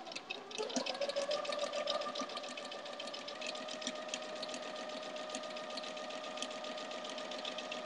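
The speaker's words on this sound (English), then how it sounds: "we're just going to sew those 4 half square triangles from the center together first" A sewing machine stitching half square triangle quilt block pieces revs up and then runs in one steady, fast whirring hum with a rapid needle chatter, close and fairly quiet, without talk.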